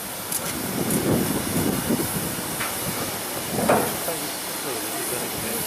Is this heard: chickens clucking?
no